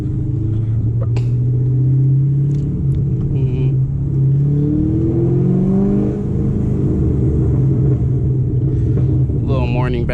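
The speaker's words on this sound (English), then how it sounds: "Little morning backfire, huh?" Tuned 500 hp C7 Corvette Stingray idling and revving with a deep loud rumble that rises and falls, a few sharp pops near the end, with someone talking over it.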